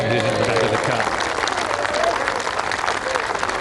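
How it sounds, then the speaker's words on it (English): Golf gallery at the 2022 DP World Tour Championship cheering and applauding Rory McIlroy's holed putt, a steady dense wash of clapping and cheers throughout, with a commentator's voice faintly under it. "Big cheer for Rory."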